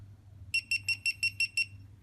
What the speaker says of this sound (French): et elle me fait bien 7 petits bips